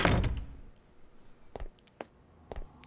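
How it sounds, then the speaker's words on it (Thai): A door closing in a horror video game: a loud thud at the start, followed by a few quieter knocks and clicks spaced out across the quiet that follows. "ปิดประตู"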